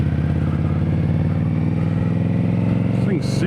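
An Indian Scout motorcycle engine running steadily with a throbbing, mid-pitched rumble. Someone talks over it throughout.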